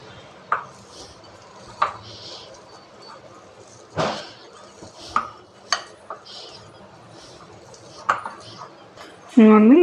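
A spoon scrapes and clinks against a bowl while chili powder, turmeric and oil are mixed together, with scattered sharp taps and soft stirring throughout, and a voice speaking near the end.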